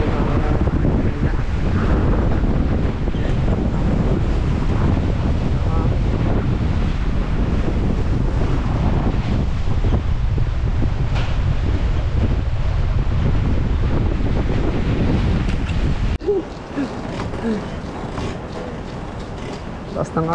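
Strong wind batters the microphone by the sea as a rushing water current churns below, a loud continuous roar with gusty low rumble, easing slightly near the end; a voice talks in between.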